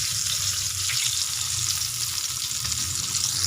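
Continuous hiss and crackle of tilapia frying in hot oil, steady and close, with a low hum underneath and no voices.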